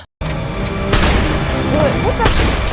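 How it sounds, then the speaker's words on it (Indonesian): Gunfire from a film's heist shootout, where a robber shoots his two companions, bursts out in loud, sharp cracks and booms over a dense soundtrack. "Dengan teganya ia malah menembak kedua temannya."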